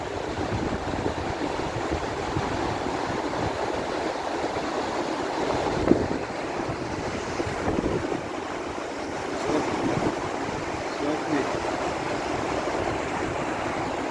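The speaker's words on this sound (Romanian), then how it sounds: "Se numește râul Zab și are o viteză extraordinar de mare." Fast-flowing Zab river in eastern Turkey near the Iraq border, a loud steady rush and roar of churning water that stays constant throughout with no voices.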